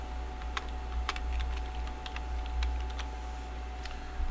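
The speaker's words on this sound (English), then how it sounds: "So let's type in CAD." Sparse, crisp keystrokes on a computer keyboard come in irregular bursts over a steady low hum as someone enters figures during live forex trading.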